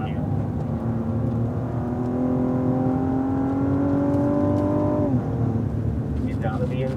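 A Cadillac ATS-V on a race track gives a loud, steady engine drone that climbs gradually in pitch for several seconds, then drops sharply as the throttle eases, with faint wind roar throughout.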